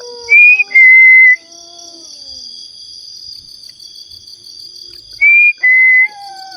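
Someone whistles a sharp two-note call, pauses for several seconds over quiet buzzing, then repeats the same two bright notes.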